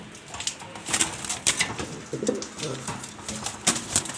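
Black exhibition pigeons at a seller's loft in Mirpur 2, Dhaka, coo in low repeated rolls, close by, with sharp clicks and brief wing flutters scattered through.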